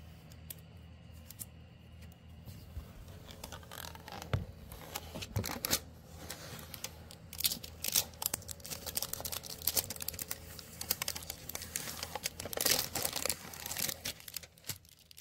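Protective plastic film being peeled off a new miner laptop, close crinkling and tearing that grows busier and louder toward the end, with no talking.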